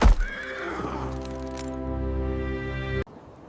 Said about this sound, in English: a magnificent horse stood ready for the king.